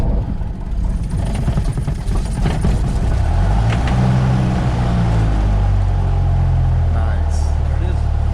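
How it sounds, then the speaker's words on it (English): A small private plane's engine cranks and catches, building into a loud, steady rumbling drone with a rising tone as it settles into idle, close to the microphone. "So now we're gonna start the plane."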